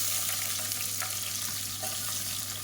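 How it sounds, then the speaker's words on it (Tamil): Whole spices and sliced onion frying in hot oil for biryani, a steady dense sizzle with faint crackles throughout, close and continuous with no talking. "இப்போ பாருங்கள் மசாலா வந்து பொரிய ஆரம்பிக்குது."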